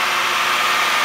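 A Ford AU Fairmont engine runs steadily, a close, constant broadband mechanical roar with no clear revving or breaks across the short stretch, heard alone without voices.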